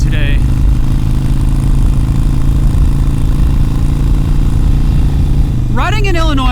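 A Harley-Davidson Iron 883 motorcycle being ridden through Missouri hills on Route 66: a loud, steady engine drone with heavy wind rush, continuous throughout, with a brief rising whine near the end.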